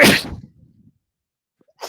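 A single sharp human sneeze bursts out loud and close at the start, then fades into near silence before a faint breath or rustle at the end.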